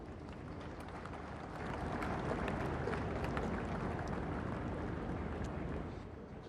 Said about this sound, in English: You may now applaud the recipients.